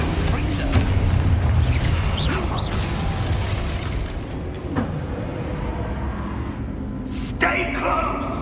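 The Confringo explosion spell in the Hogwarts Legacy video game goes off as a loud, rumbling boom with a whooshing burst, then rolls into a sustained dense roar that fades toward the end, where a brief sharp crackle cuts in.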